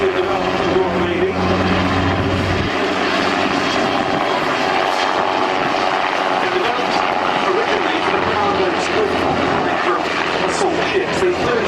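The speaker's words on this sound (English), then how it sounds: "It was the first anti-submarine helicopter. The Fly model, the twin-engine derivative developed in the Royal Navy." A twin-engine Royal Navy anti-submarine helicopter roars steadily and loudly overhead at an airshow, its engine and rotor noise constant throughout with no letup.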